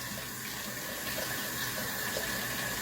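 Hot water pours steadily from a tap over rice in a bowl, a continuous close splashing wash with no talking.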